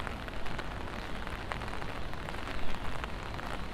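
Heavy rain pours during a Sunday night storm in Midtown Manhattan, a dense, constant hiss and patter of drops on city surfaces, steady and fairly close, with no voices.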